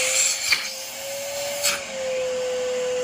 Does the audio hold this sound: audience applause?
no